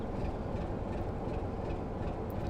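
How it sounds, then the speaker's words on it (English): A BR Class 33 diesel locomotive on the West Somerset Railway in Train Sim World gives a steady, loud low rumble of engine and rolling stock, continuous and close, with no speech. "It does accelerate quite quick, this train."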